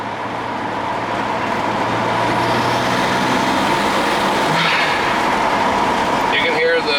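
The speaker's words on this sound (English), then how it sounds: "You can hear the blow-off valve really well to be a cheap one. You can hear the turbo spooling up a lot better." A BMW 335xi with an MHD stage 1 tune, upgraded intercooler and catless downpipe accelerates under heavy wind and road roar, the engine and turbo whooshing building loudly with a brief release hiss near the end.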